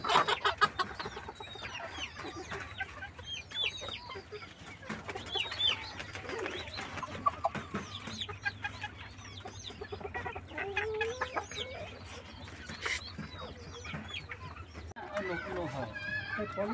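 Foreign-breed chickens cluck and chatter continuously in a poultry shed, a dense close flock with steady murmuring calls, while someone talks over them.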